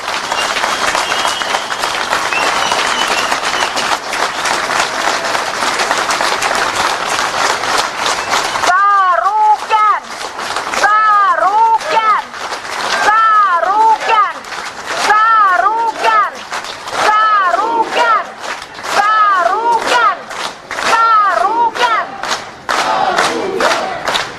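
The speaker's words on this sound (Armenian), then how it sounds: "Ես ուզում եմ այս պահին բոլորս մի հատ շատ բարձր ծափահարենք" A large outdoor crowd of political supporters bursts into loud, dense applause that fills the first several seconds, then shifts into rhythmic chanting and cheering voices repeating in unison, with claps continuing underneath.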